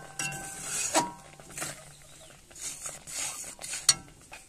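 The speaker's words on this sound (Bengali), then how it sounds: "এই মতো নাড়তে থাকবো অনবরত" Ripe mango jelly is stirred in a pot as it cooks, a spoon scraping and clinking against the metal in quick irregular strokes, close and fairly quiet.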